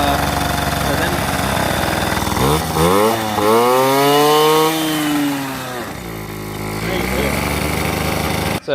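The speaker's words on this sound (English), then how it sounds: "the bike stays on and everything, it runs" A motorbike engine runs steadily and loudly throughout, its pitch rising and falling as the throttle is worked, with people talking over it.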